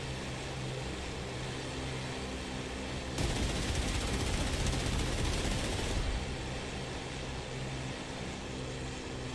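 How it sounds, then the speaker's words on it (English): Ground fire in the DCS Normandy flight game, heard as a loud, dense burst of rapid gunfire lasting about three seconds over a steady engine drone from a Fw 190 D-9 fighter. "Is that ground fire? I think it's ground fire."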